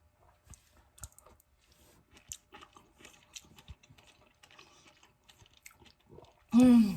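Close, soft chewing and biting of cheese tortellini peperonata with red pepper and onion, quiet moist crunches scattered through the stretch, ending in a sudden loud burst of noise.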